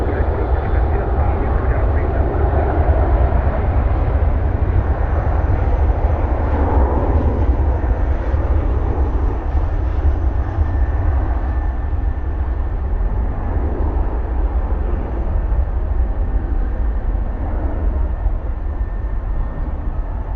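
An American Airlines jet taking off at Dallas/Fort Worth airport, a loud, steady low roar of engines at full power, with air-traffic radio chatter faintly mixed in.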